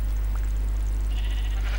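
Sheep bleat in the Minecraft video game, a couple of short nasal calls over a steady low hum from the game audio.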